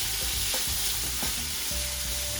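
Chopped green pepper with onions and garlic browning in a pan, a steady close sizzle and crackle with a few clinks of stirring, no voices.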